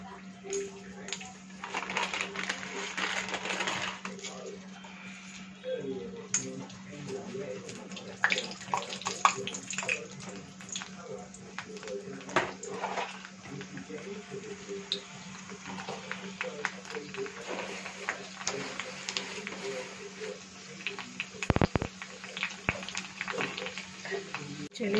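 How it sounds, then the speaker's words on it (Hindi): Puris frying in hot oil for pani puri in a home kitchen, a continuous soft sizzle and bubbling with occasional stirring clatter and a low steady hum beneath, fairly faint throughout. "तो चलिए हम फ्राई कर लेते हैं।"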